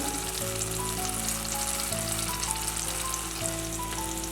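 Turmeric sizzles steadily in hot oil in a pan while being sautéed for a coconut-free moru curry, a constant close frying hiss under faint background music, with no one talking.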